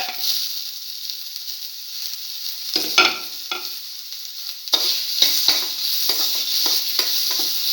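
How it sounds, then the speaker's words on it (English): Tomato pieces stir-fried with scrambled egg in a pan, a steady close sizzle and hiss running throughout, broken by several sharp scrapes and knocks of a utensil stirring the mixture. "Now put in the tomato pieces."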